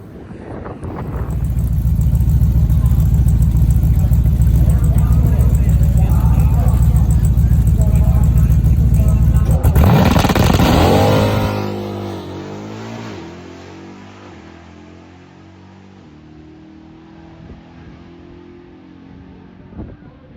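Drag race car running with its air cleaner removed, a loud, steady engine roar building from the start and holding for about ten seconds, then a sharp shift as it pulls away and fades into a distant, lower drone.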